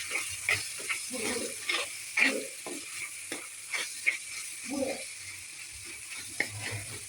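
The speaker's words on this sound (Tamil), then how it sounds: "தக்காளி ஆட் பண்ணிவிட்டு நல்லா வதக்கணும்" Chopped onions and tomato sautéing in a pan for egg masala gravy, with soft intermittent sizzling and a steady scrape of a spoon stirring, moderately close and without talk.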